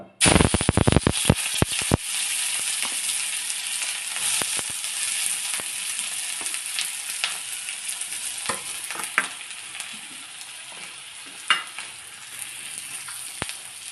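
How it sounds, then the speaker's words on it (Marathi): Chopped onion hits hot oil with a loud, crackling burst, then settles into a steady, close sizzle with scattered pops and occasional stirring while making pithale. "तेल चांगले कडल्यानंतर त्यामध्ये कांदा टाकू"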